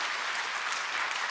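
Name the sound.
applause from church congregation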